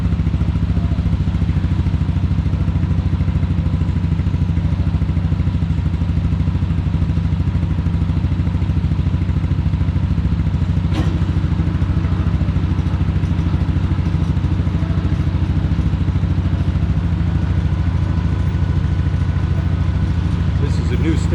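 A motorcycle's rear brake is tested at a vehicle inspection center in the Philippines, with a loud, continuous mechanical drone and whir from the test rig and people talking over it.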